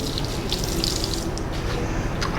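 Drinking water tap at a school running steadily, a dense close rush of splashing water with no talk.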